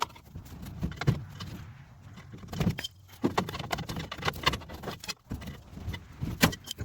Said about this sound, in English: keep prying at it, keep pounding on it until that drum comes off